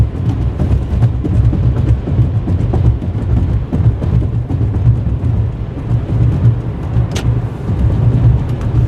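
Gen 1 Toyota Prius cruising at a steady highway speed, with a continuous loud low rumble of road and wind noise inside the cabin that holds even throughout, plus a brief higher whine near the end.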